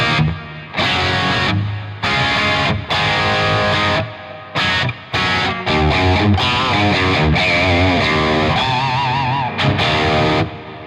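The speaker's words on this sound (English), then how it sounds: "We've got the delay, we've got the reverb, which are both very, very nice." Electric guitar through a Neural DSP Archetype Rabea amp plugin with delay and reverb, playing loud distorted phrases that stop and start, with echoing repeats and a wash of reverb filling the brief gaps.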